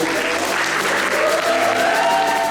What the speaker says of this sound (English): If we give a round of applause to Miss Amanda